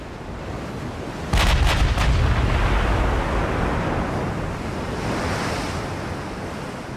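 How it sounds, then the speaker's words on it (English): Battleship Colorado fires ranging shots in the naval game Ultimate Admiral Dreadnoughts, a loud booming salvo of a few quick cracks that rolls off into a long, heavy rumble over steady ocean and wind noise. "Colorado firing off some ranging shots"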